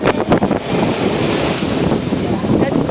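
Ocean surf at Nantucket Sound, a steady loud wash of waves with heavy wind buffeting the microphone throughout, continuous and close.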